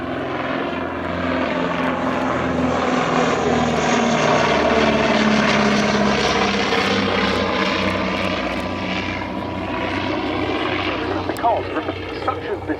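A de Havilland DH-89A Dominie propeller aircraft engine drones steadily at close range, a rich throbbing hum with shifting pitch, a voice faintly underneath.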